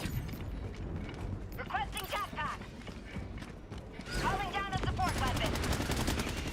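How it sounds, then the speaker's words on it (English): Rapid assault rifle fire in a Helldivers game, close and steady, coming in rattling bursts amid busy battle noise and rising to a dense continuous volley toward the end. "That Halo 3 assault rifle. That thing sounds so good."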